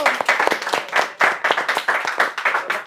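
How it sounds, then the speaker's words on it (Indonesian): A class of students claps for a student group, a lively burst of many hands applauding at close range with uneven, overlapping claps throughout. "beri aplaus untuk kelompok 1"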